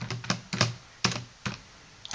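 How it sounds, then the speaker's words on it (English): A handheld calculator's buttons are pressed one at a time, about seven or eight sharp, close clicks in an uneven rhythm with short pauses between them, no voices. "I'll just do it in my calculator"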